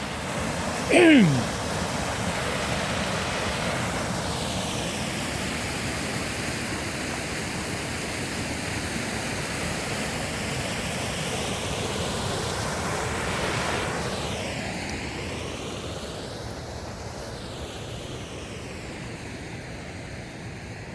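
A river flows past a dam at a landscaping site, giving a broad, steady rushing wash that holds at an even level throughout, with a faint airy sweep drifting through the background.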